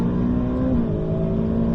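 On the Circuit de Bresse track, a race car's engine roars loudly from close by, holding a sustained drone that rises briefly in pitch as it accelerates.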